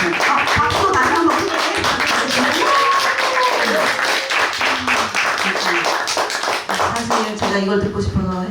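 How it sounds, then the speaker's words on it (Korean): Audience applause at an artist talk concert with a pianist and vocalist, sustained dense clapping filling the room, with people talking and cheering over it toward the end. "박수 다시 한번"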